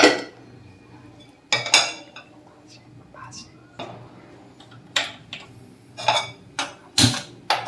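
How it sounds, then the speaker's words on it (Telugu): A metal pot is handled and set onto a gas stove in a home kitchen, giving several sharp clanks and clinks spaced irregularly, close by, with quiet stretches between. "ఇలా స్టవ్ వెలిగించుకుని గిన్నె పెట్టుకుని"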